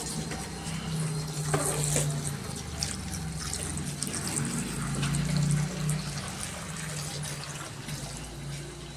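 Water runs and trickles steadily throughout, a continuous gentle flow with a low hum beneath it and no talking.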